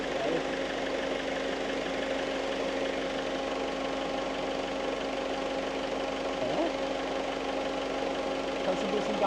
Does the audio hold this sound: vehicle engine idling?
yes